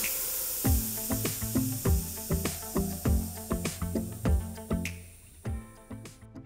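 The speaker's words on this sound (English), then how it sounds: "Now using your standard screwdriver, press the pin down on the inside of the valve stem." Air released from a Razor Pocket Mod scooter tire valve stem as the pin is pressed with a screwdriver, heard as a series of short, close bursts of hiss with clicks and handling noises in between.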